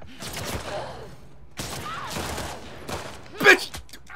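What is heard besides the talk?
gunfire in a firefight, from the video game The Last of Us Part II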